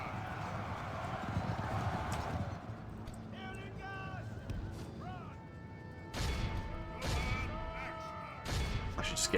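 Horses clatter and gallop in a battle of the Third Age: Total War game, dense rapid hoofbeats mixed with whinnies, clashing impacts and game music, loud and continuous with bursts of crashing.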